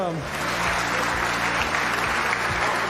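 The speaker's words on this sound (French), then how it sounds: "On peut les applaudir bien fort, en tout cas" A crowd applauds after a robot match at the Coupe de France de Robotique 2020, dense clapping mixed with a low background hum and some indistinct voices, loud and steady throughout.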